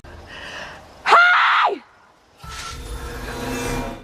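A woman lets out a single loud, sustained scream lasting under a second in a psychopath horror film scene, framed by quieter rumbling ambience before and a rushing noise after.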